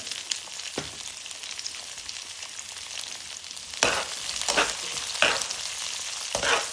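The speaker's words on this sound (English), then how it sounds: "Get the remainder of the onion in. Red onion." Red onion frying for a chicken stir-fry makes a continuous sizzle, broken by several louder bursts of stirring and scraping in the pan toward the end, with no talking.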